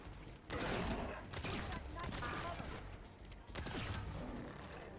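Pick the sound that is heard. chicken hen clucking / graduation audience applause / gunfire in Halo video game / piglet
gunfire in Halo video game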